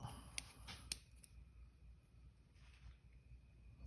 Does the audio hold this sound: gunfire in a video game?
no